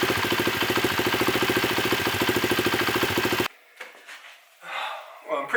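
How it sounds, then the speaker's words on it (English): A spare Honda CRF50 motorcycle engine with a suspected jetting problem idles with a steady, rapid pulsing putter for about three and a half seconds, then cuts out, leaving faint scattered handling noises. "She runs, and she sounds pretty good idling"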